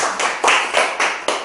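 Audience hands clap in a handful of loud, sharp bursts at a lecture, with short gaps between them and no talking.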